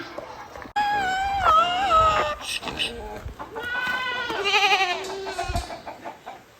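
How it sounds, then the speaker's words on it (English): A donkey gives a short, strained bray with wavering squeaky tones, rising and falling, fairly close by, with a brief low snort near the end. "So it wasn't much of a bray, but we'll call it a joyful noise, okay?"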